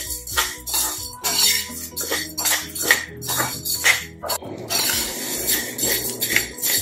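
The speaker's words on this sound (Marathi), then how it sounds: "साबुदाणा भाजताना सतत हलवत साबुदाणा भाजून घ्यायचा आहे" A spoon scraping and clinking against a metal pan while sago pearls are stirred constantly as they roast over low heat, giving repeated irregular metallic scrapes close up.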